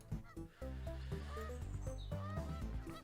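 Geese honk in the Let's Build a Zoo video game, a run of short nasal honks over a steady, loud tonal music bed.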